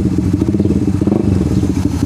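A motorcycle engine, started on its electric starter rather than a kick starter, runs close by in a rapid uneven chugging idle that stays loud and steady throughout.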